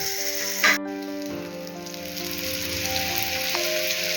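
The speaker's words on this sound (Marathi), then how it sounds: "आपण आता दोन्ही बाजूने चांगले फ्राय करून घ्यायचे" Surmai (kingfish) slices frying in a pan, a steady close sizzle with a brief clatter near the start and faint tonal hum underneath.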